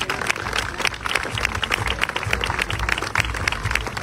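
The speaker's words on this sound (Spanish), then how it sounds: "¡Fuerte el aplauso!" Applause fills a golf award ceremony at the Andalucía Costa del Sol Open de España, a dense, steady crowd of clapping hands heard close and continuous for the whole stretch.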